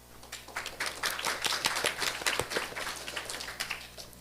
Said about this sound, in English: you can feel free to applaud